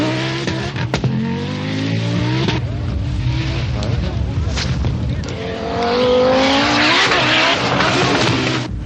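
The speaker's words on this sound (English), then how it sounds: "the powerful Quattro Sport looks quite a handful" A powerful Audi Quattro Sport rally car in the 1985 Circuit of Ireland races along a bumpy special stage, its engine revving and rising in pitch through gear changes, loud and close, under a commentator's voice.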